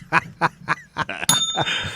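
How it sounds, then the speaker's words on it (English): A handheld bell rings repeatedly in a TV studio, about five quick, sharp dings spaced evenly, followed by a brighter ring and a lingering metallic tone, close and loud. "stop with the bell"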